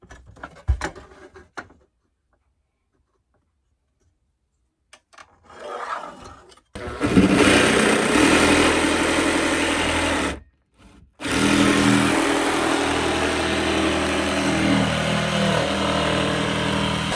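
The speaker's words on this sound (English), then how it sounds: "I'm gonna have to cut back this sheetrock" A power tool saws back sheetrock around a window jamb, a loud, close, steady grinding roar lasting several seconds that breaks off briefly and then starts again, after a few quiet knocks and handling sounds.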